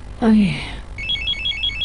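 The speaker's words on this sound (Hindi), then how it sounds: "किसका फोन है नजीब?" A brief voice speaks, then a telephone starts ringing with a rapid warbling electronic trill, repeating steadily at moderate volume.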